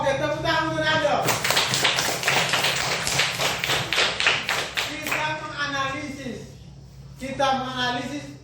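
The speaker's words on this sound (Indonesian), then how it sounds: "Oke, tepuk tangan untuk Nando." A classroom of students claps for a classmate in a quick, rhythmic burst of sharp hand claps lasting several seconds, mixed with voices before and after.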